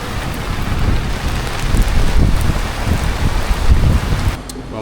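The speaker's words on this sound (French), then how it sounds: "Il y a tellement de pluie." Heavy rain pours down steadily in a tropical downpour at a Punta Cana resort, with gusting wind adding broad roaring swells; the dense wash stays loud throughout and drops away abruptly near the end.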